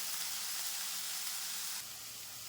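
Onions and green chillies saute in a pan for egg kurma, a soft even hiss of frying that drops slightly in level near the end, faint and with no voices.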